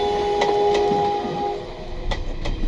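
A fast-moving train rumbles along with a steady horn-like tone, then rhythmic wheel clacks on the rails, loud and close.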